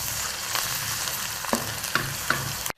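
Onions with garlic-ginger paste fry in a pan with a close, steady sizzle and a few sharp utensil taps, then stop abruptly at the end.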